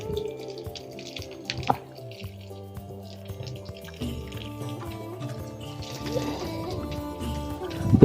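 Water left from washing potatoes splashes and drips onto garden plants, a patter of droplets and small trickles over a faint tonal background, ending with a brief louder splash.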